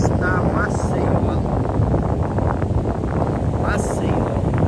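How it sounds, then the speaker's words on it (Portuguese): Strong wind on a beach at Praia do Francês, Brazil, buffets the microphone in a steady, heavy roar, with a faint rushing sound running beneath it the whole time. "Tá ventando bastante, gente, ó. Ventando bastante, tá?"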